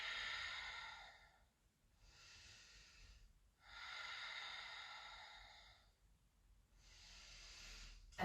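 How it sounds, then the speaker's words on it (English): Audible breaths during a yoga breathing practice, in a quiet room. Four long, airy breaths follow one another at an even, unhurried pace, close and fairly soft, with brief pauses between them. "with Kapalabhati, we're going to be focusing on the exhalation"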